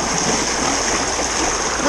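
A strong river current rushes steadily past, a close, continuous broadband roar of flowing water with no pauses.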